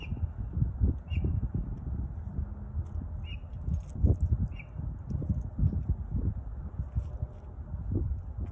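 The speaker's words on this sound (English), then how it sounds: "The bird sounds pretty." Short, high bird chirps repeat a few times outdoors, faint and somewhat distant over a steady rumble of wind and rustling.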